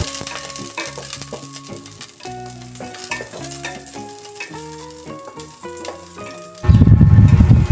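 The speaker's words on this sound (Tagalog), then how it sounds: "Mag-gisa na tayo ng bawang" Garlic hits a hot pan for sautéing, a sudden loud burst of sizzling and frying that follows a stretch of background music, up close.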